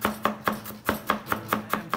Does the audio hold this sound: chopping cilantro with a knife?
yes